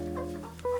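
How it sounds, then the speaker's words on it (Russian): A bred egg-laying chicken, not an ordinary backyard hen, gives a short burst of clucking, close and fairly clear over a steady low background. "Это не домашняя курица, не сушка, это именно выведена порода яйценоская"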